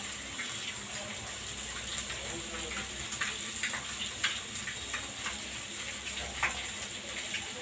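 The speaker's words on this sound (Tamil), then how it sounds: "மீன் குழம்பு நல்லா கொதி வந்துட்டு நல்லா இன்னும் கொதிக்கிட்டோம்." A pot of fish curry bubbles and simmers steadily, with soft pops and crackles over a constant low hiss.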